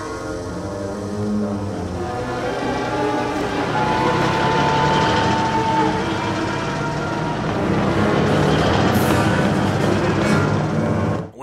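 A train rumbles steadily in a 1984 comedy film scene, a dense continuous roar and rattle of wheels and carriages that holds level throughout, loud and close with no talking.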